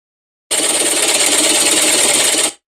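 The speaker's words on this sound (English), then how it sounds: "This was the sewing machine." Sewing machine sound effect played from a soundboard, a steady fast mechanical whirring and rattling that starts abruptly, runs loud and alone for about two seconds, then cuts off.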